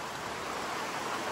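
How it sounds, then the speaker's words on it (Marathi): Heavy rain pours at a farmhouse near Lonavala, a steady dense hiss filling the scene evenly with no voices on top. "खतरनाक पाऊस आहे."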